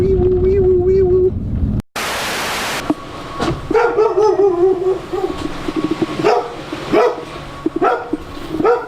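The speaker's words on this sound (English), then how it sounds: "It appears so that the suspect has a very vicious dog." A dog barks repeatedly in a short, uneven series at close range, with a voice talking in the same moments and a burst of noise just before the barking.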